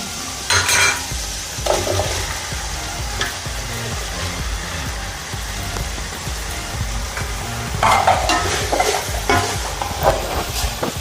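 Chopped bottle gourd sizzles loudly in a hot pan, with steady frying hiss and occasional bursts of stirring scrapes, close and continuous.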